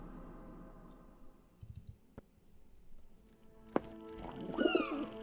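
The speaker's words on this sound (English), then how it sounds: "Pigeons." Pigeons coo in The Lost Crown game, a few soft rounded coos near the end after scattered clicks and a sharp tap, with a faint high tone in the background and no talking.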